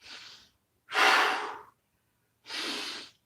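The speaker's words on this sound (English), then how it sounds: "start breathing in deep" Deep breaths during a fitness exercise: three strong, airy breath sounds, close and loud, separated by short silent pauses in an uneven rhythm.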